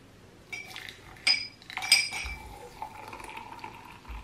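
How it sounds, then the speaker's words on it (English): Hot water poured into a cup of chia seeds, preceded by a few close clinks of the cup and utensils, then a soft, steady trickle of liquid. "And I'll soak it with hot water."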